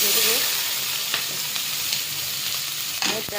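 Onion, with garlic and cumin, fries in very hot oil for an egg and potato dish, making a continuous close sizzle with brief stirring scrapes and a louder splutter toward the end.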